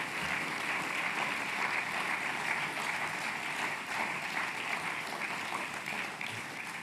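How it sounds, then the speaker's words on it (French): Sustained applause from a large audience at a French political rally's closing speech, an even wash of many hands clapping throughout, moderately loud and slightly distant. "je voudrais vous demander de les applaudir"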